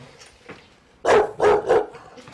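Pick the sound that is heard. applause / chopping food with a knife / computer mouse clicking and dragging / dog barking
dog barking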